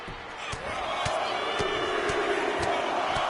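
Crowd noise in the WWE 2K25 wrestling video game, a continuous roar of a large arena audience with repeated sharp thuds and slams cutting through it, loud and steady.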